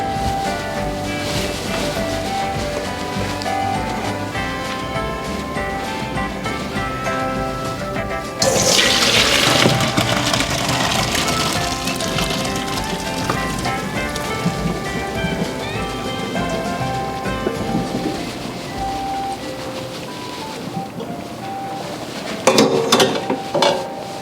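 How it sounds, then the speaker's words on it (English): Boiled potatoes drained in a kitchen, water pouring off in a long, steady, splashing rush that surges louder partway through and ends with a brief clatter, with no talking. "So I'm gonna take them now to be drained."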